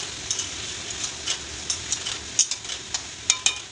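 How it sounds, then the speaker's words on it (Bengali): Bottle gourd curry with spices stirred in a pan, a spoon scraping and clicking in an irregular rhythm over a soft steady sizzle, close and moderately quiet. "কাটা লাউটা দিয়ে দেবো লাউটাও দিয়ে দিচ্ছি বেশি নাড়া দিয়ে দিচ্ছি"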